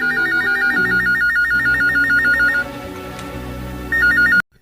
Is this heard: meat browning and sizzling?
no